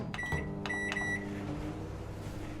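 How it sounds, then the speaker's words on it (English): A microwave oven heats a bag of hofun rice noodles in a kitchen, its electronic keypad beeping in quick short bursts over a steady low hum as it starts running. "what we're going to do is we're going to microwave it"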